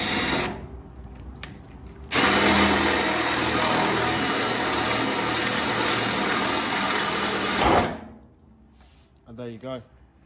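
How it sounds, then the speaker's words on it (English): A power drill bores out a spot weld on the wing of a Ford Escort Mk2 during restoration, running loud and steady for about six seconds after a brief start, then stopping; faint talk and knocks follow. "So we're just going to step the drill bit up, drill it out, and hopefully it'll pop like the last one did."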